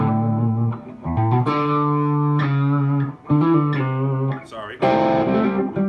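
An electric guitar plays through distortion or overdrive, loud and close, in sustained melodic phrases separated by short gaps.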